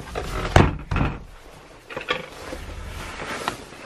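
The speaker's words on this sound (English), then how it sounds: "We'll keep the door shut this morning." A few wooden thumps and clunks, the loudest one a solid door-shutting thud, followed by softer rattles and knocks nearby.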